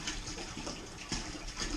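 Boiled, sterilized water gushes and splashes as it fills a container toward the 5-gallon mark for a batch of mead. The noisy stream is steady and close, with small surges.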